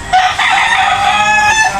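Chickens in a backyard cluck loudly and close by, with a rooster crowing in short, raspy, repeated bursts over the clucking throughout.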